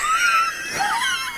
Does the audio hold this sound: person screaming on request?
yes